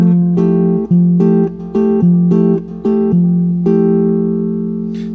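Guitar playing a basic Brazilian comping pattern, thumb picking bass notes while the fingers pluck chords, a steady syncopated series of close plucked strokes that rings out at the end with no talking.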